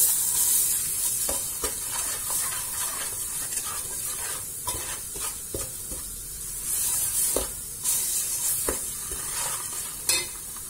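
Tomato paste and spices fry in hot oil with a steady bright sizzle, while a spoon stirs and scrapes the pan in irregular knocks throughout.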